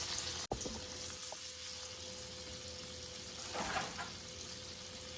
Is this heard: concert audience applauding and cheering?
no